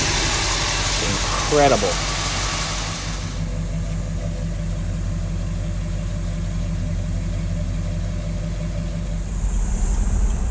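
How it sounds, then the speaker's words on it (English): A 1969 Mercury Monterey V8 fitted with a Holley 2300 carburetor idles smoothly and steadily at close range, a person speaking briefly over the engine at the start before the low, even rumble continues alone. "This is that nice smooth idle."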